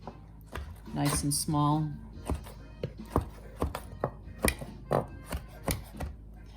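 A knife chops sun-dried tomatoes on a big cutting board, a run of quick, sharp, close taps in an uneven rhythm, with a brief spoken comment near the start.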